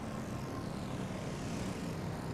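Torpedo planes in a naval combat game drone steadily overhead, a continuous broadband propeller-engine roar holding even and moderately loud throughout.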